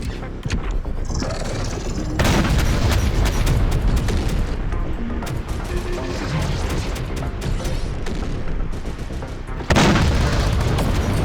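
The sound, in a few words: mine and missile explosions in video game Terminator Dark Fate Defiance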